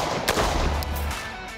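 A rifle chambered in 5.56 fires through a SureFire SFMB 556 muzzle brake, giving one loud, sharp shot with a booming, concussive tail that lingers close by outdoors.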